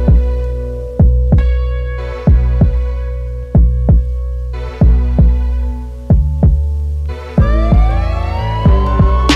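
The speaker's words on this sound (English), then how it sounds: "I'm currently just hitting all the staples as flat as possible to carpet straight over them" A hammer flattens staples under the carpet of a VW R36 build: about a dozen close, loud metallic strikes in a steady rhythm, each leaving a ringing tone, with a brief rising whine at the end.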